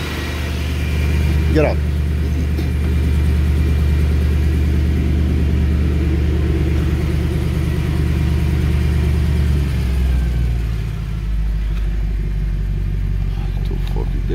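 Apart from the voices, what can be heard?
2013 Mercedes C63 engine running after cold start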